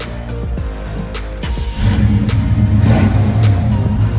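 An old Chevy engine runs close by with a few sputtering pops, then revs up into a loud, steady roar that holds to the end.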